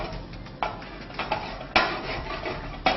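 Gari being stirred as it fries in a pan, a spoon scraping and clinking against the metal at irregular intervals over a soft background, close and fairly loud.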